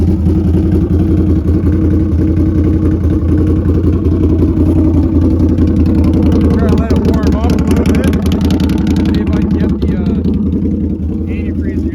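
Loud, steady idling rumble of a Can-Am Outlander XTMR ATV engine warming up, continuous and close with slight clattery texture, with a voice talking over it.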